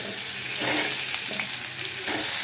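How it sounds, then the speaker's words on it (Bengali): Potatoes frying in hot oil in a home kitchen, a dense, loud, continuous sizzle with some stirring scrapes, no voices. "তেলটা গরম হয়ে গেছে। এবার আমি আলুগুলোকে দিয়ে দেব। আলুগুলোকে দেখো বন্ধুরা সব ভেজে নেব এরকমভাবে।"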